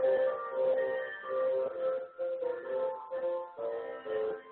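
Finale 2010 software plays back a scanned-in music piece at one steady tempo, with synthesized instrument notes and chords in short phrases and brief gaps, moderately quiet and with no talking.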